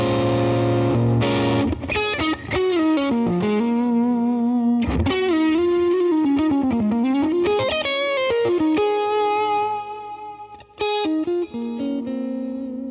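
Electric guitar played through a Line 6 Helix preset with a squishy Vox-style tone, loud and continuous, sliding notes and chords with effects-laden distortion and chorus, played alone.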